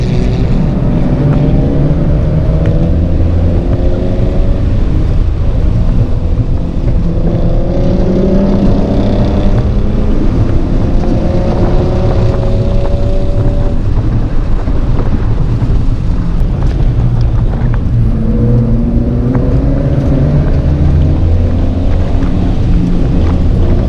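A Scion FRS sports car engine revs hard on a race track, with repeated rising pitch sweeps through the gears under constant loud wind buffeting inside the cabin.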